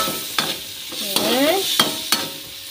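Carrot and bean sprouts are stirred in a frying pan, with several sharp spatula scrapes and knocks over a steady close sizzle.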